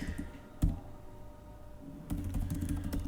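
Keys clicking on a computer keyboard while PowerShell code is entered: a sharp tap early on, a stretch of near quiet, then a denser run of close keystrokes toward the end.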